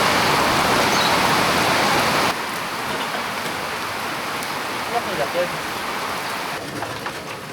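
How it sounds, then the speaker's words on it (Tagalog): Sudden heavy rain pours down steadily, loud and dense, the hiss easing slightly after a couple of seconds but continuing throughout without talk. "Biglang bumuhos yung ulan."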